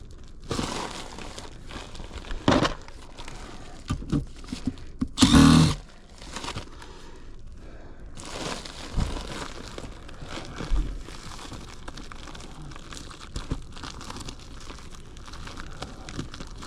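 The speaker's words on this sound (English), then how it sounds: "first I need to remove that insulation." Attic insulation being pulled and torn out while balancing on rafters, with scattered crinkling, rustling and rough tearing bursts, one loud close crunch near the middle, otherwise fairly quiet with no clear speech.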